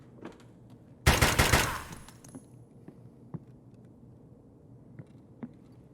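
Burst of automatic machine gun fire from the Escape From Tarkov shooter game, a single loud rapid volley lasting about a second, trailing off, followed by faint scattered clicks and small noises.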